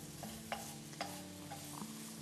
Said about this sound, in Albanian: Më pas do të shtojmë qepën me një lugë gjalp.